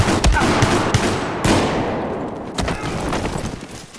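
Rapid gunfire in the Battlefield 4 video game, a dense stream of loud shots and bursts with sharp cracks over a constant noisy battle background.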